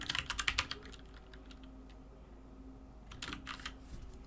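A computer keyboard clicks as a file name is typed, with a quick burst of keystrokes, a quiet pause, and then a few more taps, close and soft.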